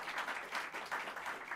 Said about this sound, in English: Let's give her a round of applause, Commissioner Kavanaugh.